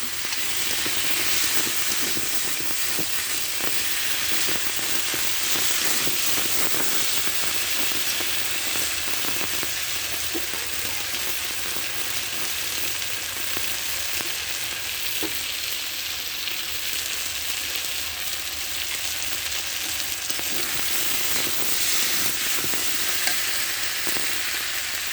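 Pointed gourd and potatoes with coriander powder sautéing in a pan for a silver carp dish, giving a loud, continuous sizzle with soft stirring scrapes running steadily throughout.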